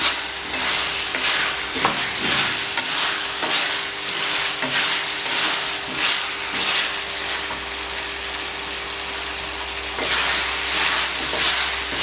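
Potatoes and keema fry in a pan, making a loud, continuous sizzle broken by repeated stirring scrapes throughout, with no voices.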